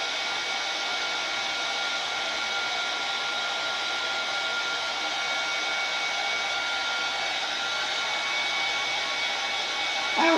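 A heat gun blows hot air over a craft project in a steady, loud, unbroken whooshing roar that holds for several seconds and cuts off abruptly at the end.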